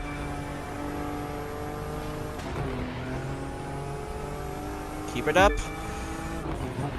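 A high-performance roadster racing downhill in The Crew 2, its engine holding a steady whining drone that briefly shifts pitch midway, while a voice talks over it.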